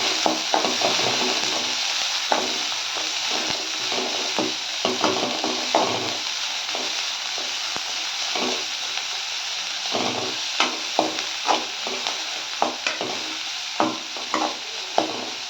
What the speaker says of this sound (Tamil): நம்ம பொடிசாக கட் பண்ண வெங்காயத்தை போட்டுடணும். நல்லா வணங்கிடணும்